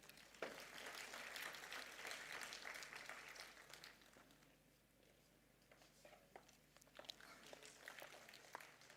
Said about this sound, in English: please give another round of applause for our esteemed guest of